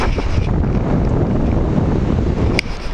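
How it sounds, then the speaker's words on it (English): Strong wind buffets the microphone with a constant loud, rough rumble for the whole stretch, with no voices. "It's very windy here."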